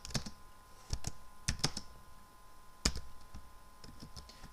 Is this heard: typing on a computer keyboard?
yes